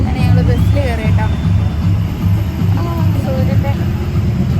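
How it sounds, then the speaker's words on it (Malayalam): Inside a moving bus, a low engine drone and road rumble run continuously beneath voices and chatter from passengers. "അങ്ങനെ ഞങ്ങൾ ബസ്സിൽ കയറി കേട്ടോ."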